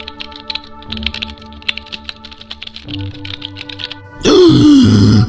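Quick, irregular clicks of typing on a computer keyboard run over quiet game music, followed by a loud burst of a grunting voice at the end.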